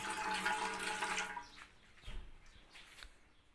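Running tap water splashes over walnut leaves held under it, loud at first and then fading to quieter drips and handling sounds.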